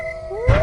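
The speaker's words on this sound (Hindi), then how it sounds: "कभी कभी सियार के हुआ आवाज भी आती थी।" A jackal howls near a village at the edge of a forest at night in an animated horror tale, one long tonal wail that bends upward, fairly loud and close, as a low rumble rises beneath it.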